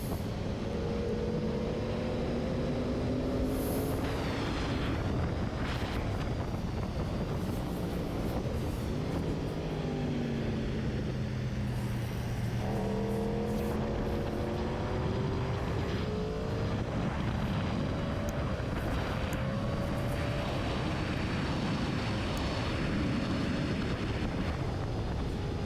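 A Yamaha R1M sport bike runs flat out down a race track's front straight near 120 mph, its engine note rising and shifting through gears under steady, loud wind rush with no pause.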